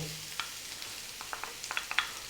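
Ginger sticks, garlic and onion frying in a pan, a faint, quiet sizzle with sparse small crackles and pops scattered through it.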